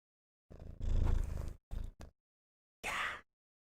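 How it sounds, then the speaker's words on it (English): A house cat purrs right up close in several uneven bursts, rumbling for a second or so each time with brief silent gaps between. "I don't know if you guys can hear her purring."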